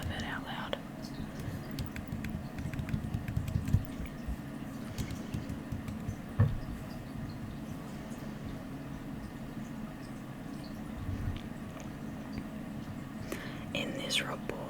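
Fingers tap on a laptop keyboard during a quiet study session, with soft, sparse key clicks under close, low whispering.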